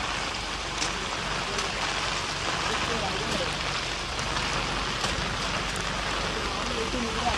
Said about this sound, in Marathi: खूप जोरदार पाऊस आहे.